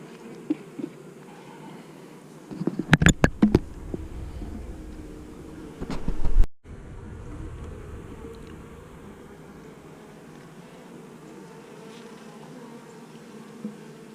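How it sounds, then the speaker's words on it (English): A steady hum of many honey bees buzzing close by at an opened hive worked without smoke, with a few sharp clicks and knocks early on and a brief louder rush before it settles. "we got a lot of bees hatched out in there with her."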